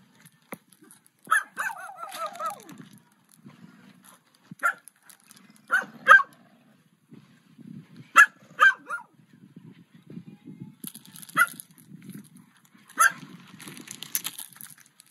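A Dogo Argentino barks out on a city street while being walked, a handful of sharp, loud barks spaced irregularly over a low background of street noise, with occasional faint voices.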